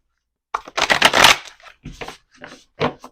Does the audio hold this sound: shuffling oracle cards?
yes